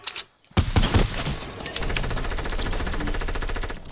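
Rapid automatic gunfire in the video game Fortnite sounds loud and close, starting after a brief pause and continuing as a dense, steady burst of repeated shots.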